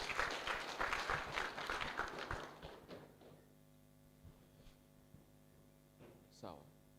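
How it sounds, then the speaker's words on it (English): Clapping from an audience at a university orientation session, a fairly brief burst of applause mixed with crowd murmur that fades out after about three seconds, leaving a quiet room with a few faint knocks. "Tumpatie another round of clap."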